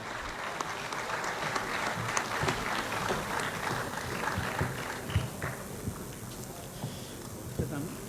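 Applause from an audience at a Lucknow mushaira poetry event, a sustained wash of clapping at moderate distance with scattered louder claps and voices mixed in.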